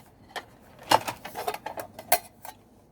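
Light metallic clinks and knocks from a nesting two-piece aluminium cook set being handled, several short scattered taps with a couple of sharper clanks, close and fairly quiet with no talk.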